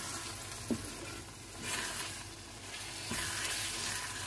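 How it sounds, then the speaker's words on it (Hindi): Eggs frying with garam masala and kasuri methi in a pan, a soft continuous sizzle broken by a few louder bursts of crackle as they are stirred, close and quiet. "तरीके से करके अंडों को हम थोड़ा सा फ्राई करना है।"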